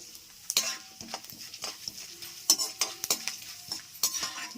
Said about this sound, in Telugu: 1 స్పూన్ ఉద్దిపప్పు, 1 స్పూన్ శనగపప్పు వేసేసుకొని వేపుకుందాము.